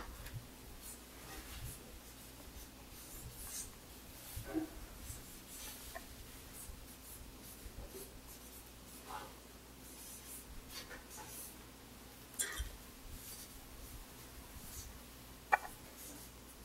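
Soft scratching of a pen or marker writing Tibetan script by hand, with intermittent strokes and scrapes over a low background hum and a few sharper taps, close and faint with no talking.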